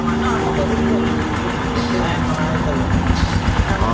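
A 110cc motorcycle engine idles steadily and fairly quietly after an overhaul, a low even putter running throughout with faint background noise.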